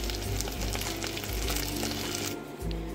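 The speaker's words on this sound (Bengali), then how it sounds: "মশলা থেকে তেল ছাড়লে দিয়ে দেবো টমেটো কুচি।" Chopped tomato fried in an oily spice masala: a steady, dense sizzle close by, with a low rumble underneath that eases briefly near the end.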